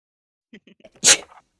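A single loud, close sneeze bursts out after a few soft vocal sounds at a tabletop game session.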